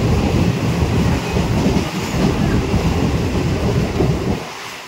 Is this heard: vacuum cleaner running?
no